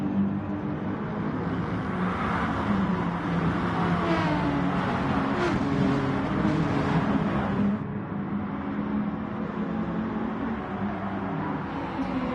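GR3 race cars bunched together on track in a sim racing game, a steady loud engine drone with revving and shifting pitch as the pack runs close, no voices.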